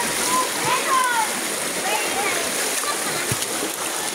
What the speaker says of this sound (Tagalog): Mahinang tulo ng falls